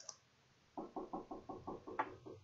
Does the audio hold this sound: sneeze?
no